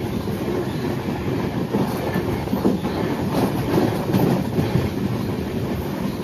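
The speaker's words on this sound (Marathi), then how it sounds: "आपला रेल्वेचा प्रवास जबरदस्त" A Konkan Railway train rumbles along the rails in monsoon rain with a steady roar and faint rhythmic clatter, heard from inside at an even loudness.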